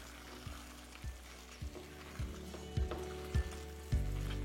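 Blanched vegetables and capsicum are stirred into a vegetarian navratan korma gravy in a pan, with soft steady sizzling and regular spoon knocks and scrapes against the pan, growing slightly louder, with no voices.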